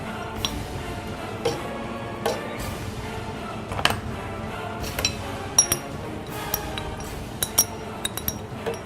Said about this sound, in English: So I'm just going to muddle here a bit before I put it into the blender.